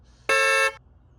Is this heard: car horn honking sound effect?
yes